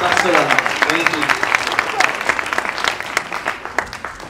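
Audience at a school class performance claps steadily in a dense, lively burst of applause, with a voice speaking over it.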